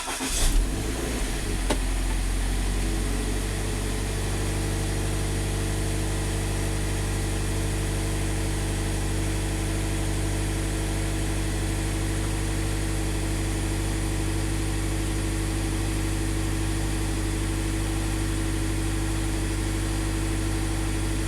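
A Scion FR-S / Subaru BRZ engine with a low-power stumble fault idles steadily while warming up, a loud, constant low drone with a brief start-up burst at the beginning and no voices.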